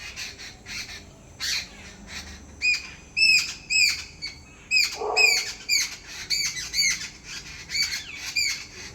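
An unidentified bird squawks loudly in a rapid series of harsh, chattering calls, close by, repeated in bursts for several seconds.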